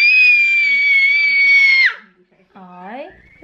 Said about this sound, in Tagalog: Ay, huwag sisigaw